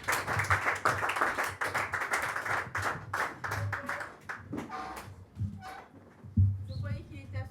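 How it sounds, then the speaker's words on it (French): Spectators at a slam poetry tournament in Antibes clap and cheer for the next performer taking the stage, the applause mixed with chatter and thinning into scattered claps and voices toward the end. "Veuillez applaudir"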